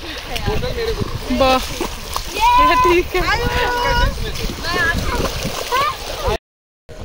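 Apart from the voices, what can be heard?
waterfall water splashing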